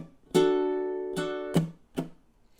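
Ukulele strumming a pattern with a ringing chord followed by a sustained strum and two short percussive chunk mutes, close and clear with no voices.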